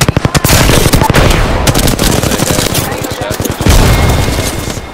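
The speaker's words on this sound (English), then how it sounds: "Look out, grenade." Rapid bursts of automatic gunfire and a grenade blast in a zombie shooter video game, loud and close, crackling in dense volleys throughout.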